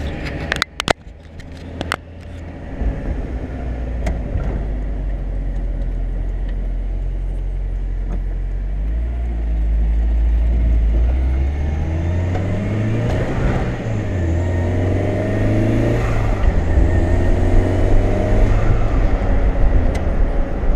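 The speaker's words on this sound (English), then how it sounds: "bit of turbo noise there" A turbocharged 1991 Mazda Miata drives at night: a low engine drone rises and builds, turbo whine sweeping over it, with a few sharp knocks at the start and no talking.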